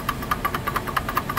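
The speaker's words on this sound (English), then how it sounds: "that's not engine trouble. That is bearing inside the water pump." A Hemi V8 idles with a worn water pump bearing, giving a steady, rapid ticking rhythm over a low engine drone, recorded up close with no talking.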